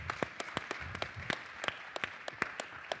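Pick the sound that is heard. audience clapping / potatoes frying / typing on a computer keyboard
audience clapping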